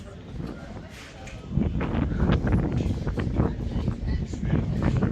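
Gusty wind buffets the microphone in a low, continuous rumble that strengthens partway through, with a voice speaking underneath, in the medieval old town of Rhodes, Greece.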